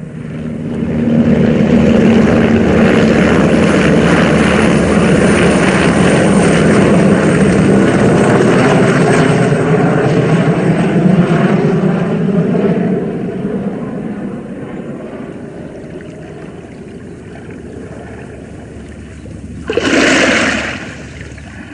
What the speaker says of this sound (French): pris place dans un hélicoptère